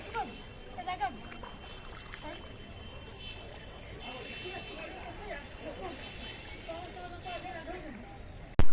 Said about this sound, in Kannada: ದೇವಸ್ಥಾನದ ಮುಂದೆ ಒಂದು ಕೋನೇರಿ ಇದೆ ಎಷ್ಟು ಚೆನ್ನಾಗಿದೆ ನೋಡಿ ನೀರು ಸ್ನಾನ ಮಾಡೋರು ಸ್ನಾನ ಮಾಡ್ತಿದ್ದಾರೆ